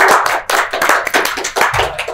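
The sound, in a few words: audience applause for Bulania Sari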